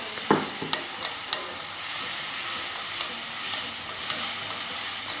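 Food fries in a pan with turmeric and salt, starting with a few sharp utensil knocks and settling into a steady, moderate sizzle as it is stirred.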